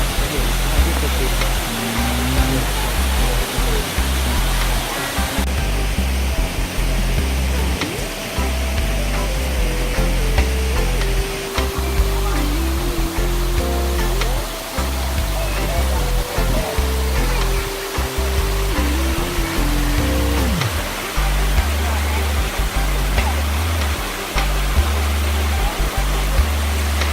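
Ko Luang waterfall in Mae Ping National Park, Thailand, pours as a loud, continuous broadband rush of falling water, with a person talking over it.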